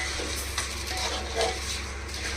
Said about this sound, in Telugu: ఇది మొత్తం ఒకసారి కలుపుకుందాము